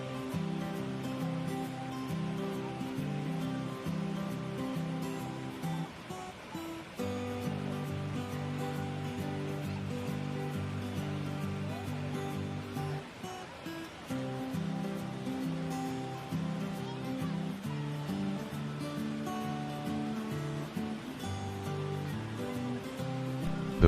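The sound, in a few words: Sera Falls waterfall in Sri Lanka, heard from behind it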